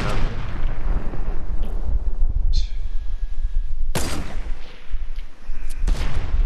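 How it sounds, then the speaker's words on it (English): Sniper rifle shots in the Fortnite video game: two loud, sharp cracks with rumbling tails, a few seconds apart, over a constant noisy game background. "I can just snipe him."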